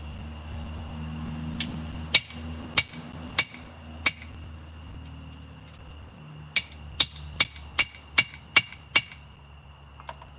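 Sharp metallic hammer blows strike a homemade chisel flattened and ground from rebar as it chops through metal at a forge, about a dozen ringing hits in two bursts over a low steady background hum.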